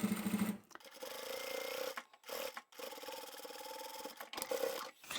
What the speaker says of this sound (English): we'll take this back to the machine and we're going to sew just that fold closed